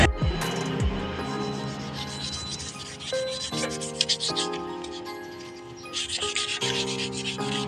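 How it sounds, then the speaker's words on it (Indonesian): Sandpaper with water is rubbed over a scratched, dulled motorcycle body panel, making steady back-and-forth wet scrubbing strokes up close, a continuous rhythmic rasp that stays loud throughout. "Ini nanti kita tinggal gosokinnya pakai air ya biar lebih gampang."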